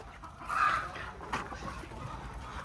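Desi chickens and roosters cluck nearby on a farm, with a brief louder squawk early on and scattered soft clucking over a quiet background.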